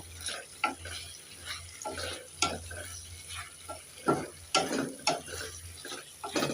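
Fish curry with ridge gourd and kasuri methi in white oil is stirred in a pan: soft sizzling under intermittent scraping and clinking strokes, fairly quiet and close, without talk.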